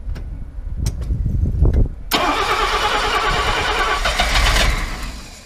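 An old Mercedes W114 engine cranks and catches after a couple of seconds of muffled handling noise, then runs with a loud, steady idle that fades slightly at the end.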